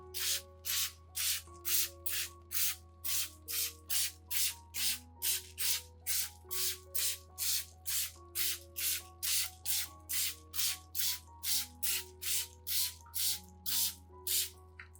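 A handheld spray bottle mists an orchid with a long series of short, breathy sprays in a steady rhythm, about two per second, close to the ear. Soft background music plays underneath and no one speaks.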